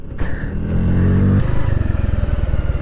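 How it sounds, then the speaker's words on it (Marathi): A motorcycle engine starts up and revs, then settles into a loud, pulsing idle as the bike pulls away, close up. "निघाली बाईक"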